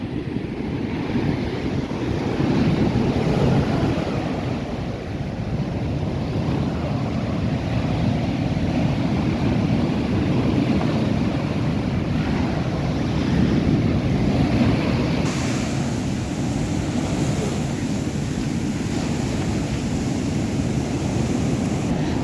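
Storm-driven sea surges onto an eroding beach where coconut trees have been uprooted, making a steady, heavy roar of surf mixed with gusting wind buffeting the microphone, with no voices.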